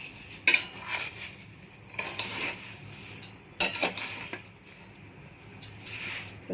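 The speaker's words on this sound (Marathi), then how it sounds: "गॅस कमी करायचं आणि सतत ढवळत राहायचं" Pineapple jam simmering in a pot on a low gas flame is stirred with a metal spoon, giving several separate scraping clinks against the pot with quiet pauses between them and a soft bubbling hiss underneath, close and fairly faint.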